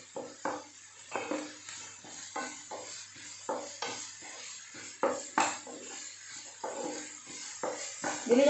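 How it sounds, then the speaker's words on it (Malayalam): Onions are stirred in a pan over a high flame, a repeated rhythm of close spatula scrapes about once a second over a soft steady sizzle. "അപ്പോൾ ഹൈ ഫ്ലെയിമിൽ വെച്ചിട്ട് കുറച്ച് നേരം ഇളക്കി കൊടുത്താൽ തന്നെ അത് വാടി കിട്ടുന്നതാവും."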